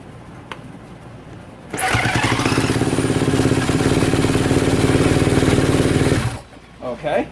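A Kawasaki KX250F dirt bike, choke on, fires up after a brief crank and runs loud and close for about four seconds with a rapid, rough engine rhythm before cutting out, followed by a couple of quieter sounds.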